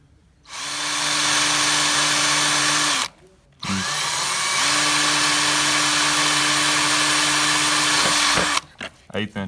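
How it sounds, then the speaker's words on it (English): Two long bursts of a power drill boring with an eighth-inch bit during a trim switch install, loud and close with a steady whine, separated by a short pause, ending in brief clicks. "Eighth-inch drill bit,"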